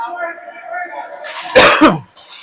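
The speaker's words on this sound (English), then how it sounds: "Sorry about the cough, folks. I've had a little bit of a cough." A person talks briefly during an ice hockey game broadcast, then a sharp, loud cough bursts out close by, followed by a faint trailing sound.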